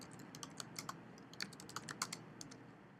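Typing on a computer keyboard: quiet, irregular key clicks in quick succession, close and faint over a low background hum, with no talking.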